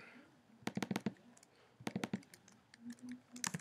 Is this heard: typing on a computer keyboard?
yes